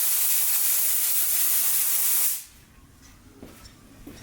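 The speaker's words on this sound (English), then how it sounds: "Brand new gun that I trial sprayed yesterday, and it keeps doing like a weird splattery situation" A brand new paint spray gun blasts a loud, continuous airy hiss for about two seconds before cutting off, leaving a quiet workshop with a few faint knocks; the spray comes across as harsh and slightly uneven.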